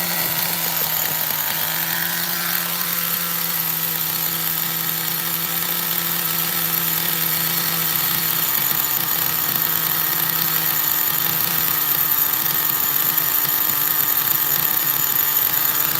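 A small nitro RC car engine, a new Mutant Nitro being tuned, buzzes steadily at high pitch for the whole stretch, close and constant with slight shifts in pitch and no talking.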